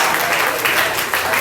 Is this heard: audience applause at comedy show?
yes